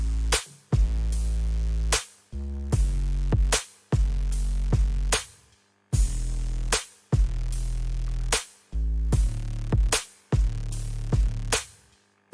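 A looping beat of punchy chords over a deep, heavy bass line, repeating in short choppy bursts with brief gaps, loud and close.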